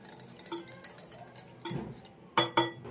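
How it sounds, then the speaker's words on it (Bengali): Metal whisk or spoon clinks and scrapes against a steel bowl while sour yogurt is beaten smooth, with irregular soft strokes and a few sharper, louder clinks near the end, close and without talk. "এবার টক দইটাকে খুব ভালো করে ফাটিয়ে নিতে হবে"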